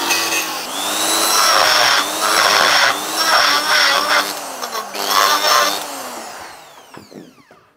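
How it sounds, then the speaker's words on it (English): A carbide ball cutter grinds a V groove into a cracked aluminium wheel casting, a loud high-pitched whining burr with wavering pitch over several seconds before spinning down to silence at the end. "I'll use a carbide cutter, probably a ball one, and just V it right out so I can get some penetration"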